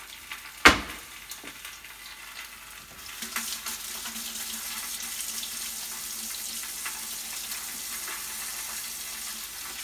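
Water runs from a kitchen tap into a sink for hand washing after handling raw chicken, a steady close hiss that begins with a sharp knock and continues alone.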